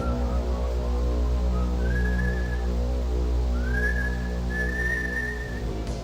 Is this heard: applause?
no